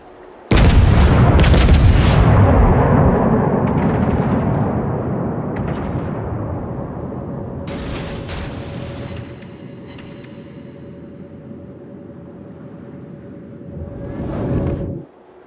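Battleship main guns firing in a naval video game: a massive booming salvo of two or three blasts up front, then a long rumbling decay with a steady tone, and a final swelling boom near the end, with no talking.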